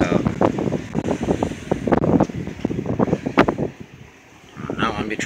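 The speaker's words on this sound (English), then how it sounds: "Windy as all get out." Strong snowstorm wind roars and buffets the microphone in gusty waves, while a voice talks almost continuously under the blustery noise.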